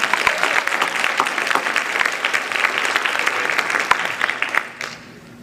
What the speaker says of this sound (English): how about a huge round of applause for our great softball team?